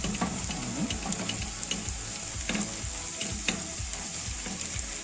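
Garlic sizzles steadily in a hot pan with oil, a continuous crackling fry with occasional stirring scrapes, close and fairly loud with no talking, just before prawns go in.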